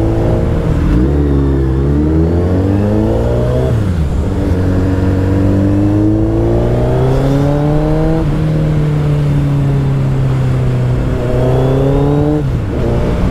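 Suzuki Hayabusa motorcycle engine revving steadily up and down, a loud, close, continuous roar with rising and falling pitch through several throttle swells, no talk over it.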